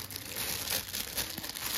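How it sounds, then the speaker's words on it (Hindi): Plastic packaging wrapper around a girls' midi dress crinkling and rustling as it is handled and pulled open, close up and fairly quiet, in steady bursts. "अभी मैं निकालता हूँ इसको पन्नी से"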